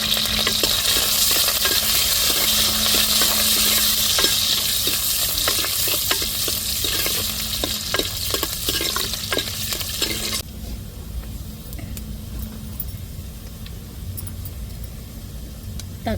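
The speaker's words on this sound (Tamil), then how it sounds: "அடுத்தது தாளிப்புக்கு வெங்காயம் சேர்த்துக்கிடுவோம். கருவேப்பிலை சேர்த்துக்கிடுவோம்." Onion and curry leaves sizzle loudly in hot oil as a tempering for a country chicken curry, with scraping stirs for about ten seconds before the hiss drops to a quieter simmer.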